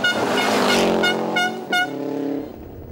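A rally car tears past at speed on a stage of the Kisumu rally in Kenya, a loud rising engine roar with gear changes, close and alone.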